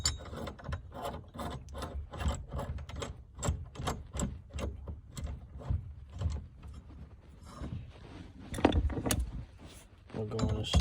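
A ratchet wrench clicks in quick, steady bursts as it tightens a threaded part during a 5.3 engine swap into a 1997 GMC Sierra 1500. The clicking is close and mechanical, with brief pauses between runs.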